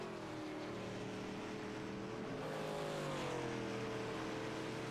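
A distant race car engine at the HTL Nashville 300, coasting with the clutch in, holding a steady tone and drifting slightly in pitch, its exhaust drone fairly faint and continuous.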